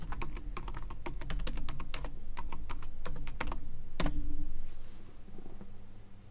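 Someone typing a password on a computer keyboard, with a rapid run of crisp, close key clicks that ends in a firmer final keystroke, followed by quiet.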